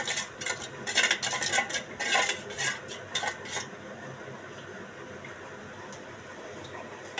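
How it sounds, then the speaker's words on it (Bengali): Spoon clinking and stirring in a bowl as agar agar powder is mixed for dragon fruit jelly, a quick run of sharp metallic taps for several seconds, then fading to a quiet rustle. "এটা সুন্দর করে মিক্সার করবো।"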